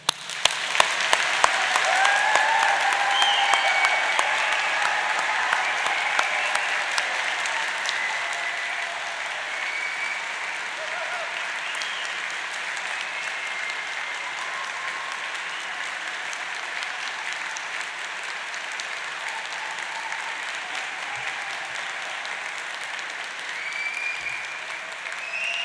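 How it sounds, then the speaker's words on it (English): A large audience at a university degree ceremony in Manchester gives the graduates a long round of applause, loud at first and then settling into steady, even clapping that fills a hall for over twenty seconds. "huge round of applause."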